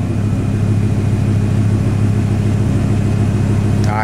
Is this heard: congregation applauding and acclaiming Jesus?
no